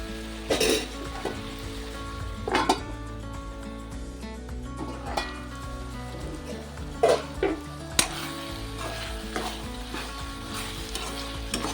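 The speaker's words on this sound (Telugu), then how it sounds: "చిక్కుడుకాయ కూడా బాగా ఫ్రై అయిపోయింది" Broad beans frying in a pan put out a continuous sizzle, broken by repeated sharp scrapes and knocks of a spoon stirring against the metal, loud and close.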